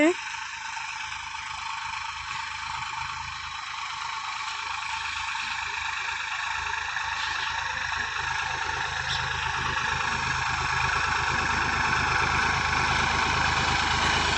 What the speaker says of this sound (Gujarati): ટ્રેક્ટર હાલી રહ્યું છે